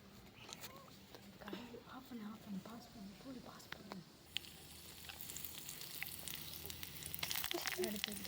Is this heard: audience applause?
no